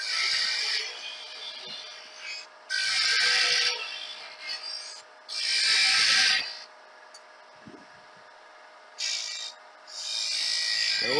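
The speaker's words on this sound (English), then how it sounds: "With the round skew, I'm going to go ahead and hollow that out." A round skew chisel hollows out a wooden tenon on a lathe, cutting in four separate bursts of hissing, scraping rasp with quiet pauses and small tool knocks between them.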